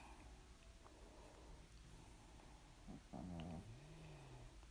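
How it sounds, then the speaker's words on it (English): A dog snoring indoors, with faint low rasping breaths over a quiet room tone, then a louder snort and a short throaty growl-like exhale near the end. "I'm back in the room with the snoring dog."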